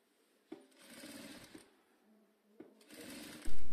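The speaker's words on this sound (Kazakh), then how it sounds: "Міне астарын тігіп жатырмыз." A sewing machine stitches a hat lining of chintz fabric in two close, rapid whirring runs separated by short pauses, with a loud clunk at the end and no speech.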